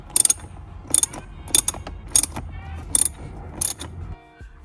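A ratcheting driver backing out T25 Torx screws from trim on an Alfa Romeo Giulia, about six short, loud clicking bursts in a regular rhythm, close by.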